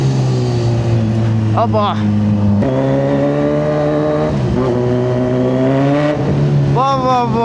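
A Kawasaki Z900 motorcycle engine revs loudly and close, its pitch rising and falling in repeated throttle blips between rough idling, with a brief exclamation from a rider.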